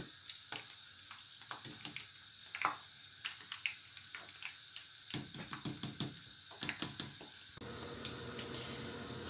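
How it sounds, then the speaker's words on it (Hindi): Iftar snacks fry golden in oil in a pan over medium heat with a quiet, steady sizzle. Faint crackles and pops, along with light clinks of stirring or handling, are scattered through it. "बस हमने इनको दोनों साइड से गोल्डन फ्राई करना है"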